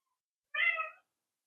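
A cat gives a single clear meow, about half a second long, close to the camera in a kitchen where meat is being sliced by hand for pemmican, with silence before and after.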